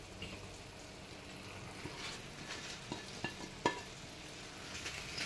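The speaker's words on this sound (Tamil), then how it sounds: "இப்போ நான் ஃப்ரை பண்ண காலிஃப்ளவரை சேர்த்துறேன்." Fried cauliflower pieces go into a pan of sizzling masala gravy for dhaba-style cauliflower masala, giving a steady close frying hiss with scattered stirring clicks and a sharper clatter midway, without any talk.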